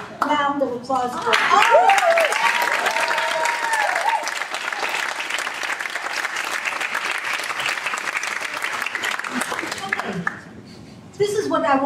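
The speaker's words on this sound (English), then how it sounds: "Round of applause for" Audience applause at a leadership lecture, clapping swells in right after a voice and holds as a dense, steady roar for several seconds before fading out as people start speaking again.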